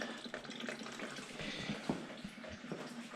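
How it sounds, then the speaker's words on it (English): Coolant drains from a 1991 GMC K1500 pickup during engine removal, a steady splashing trickle of liquid running continuously and close by, with no voices. "We got the coolant draining."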